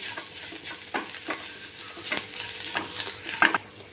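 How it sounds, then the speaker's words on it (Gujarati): Spice masala with salt, red chilli powder, turmeric and coriander-cumin powder sautéed in a pan, a soft continuous sizzle under spoon scrapes and stirring clicks, close up, with a brief sharper clatter near the end. "મસાલામાં સ્વાદ પ્રમાણે મીઠું લાલ મરચું પાવડર હળદર પાવડર ધાણા જીરું પાવડર એડ કરીને સરસ રીતે સાગળી લેશું"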